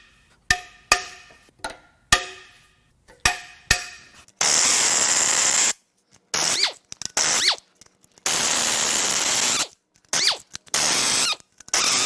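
A power tool zips out cylinder head bolts on a Mercedes M156 6.2-litre V8 during an engine teardown. Short high-pitched bursts come first, then long loud sustained runs broken by sharp stops, close up with no talk.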